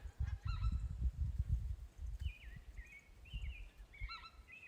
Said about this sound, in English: Speckle belly, white fronted goose.